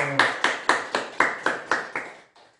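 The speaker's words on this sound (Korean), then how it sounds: "박수로 환영합니다" A Korean church congregation claps to welcome a newcomer during worship, about nine loud, evenly spaced claps in a steady rhythm, close and clear, with no talk over them.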